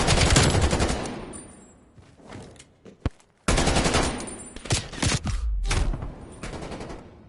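Rapid automatic fire from a Krig rifle in a Call of Duty match, with dense sustained bursts, a brief pause, then more long volleys, loud and close over faint game background.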